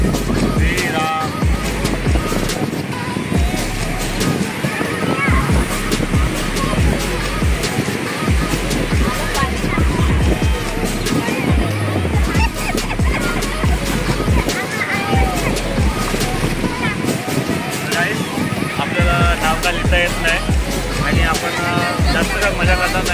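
Sea waves surge and crash continuously at Murud Beach in Dapoli in the evening, a loud, dense wash of surf and wind with people talking faintly underneath.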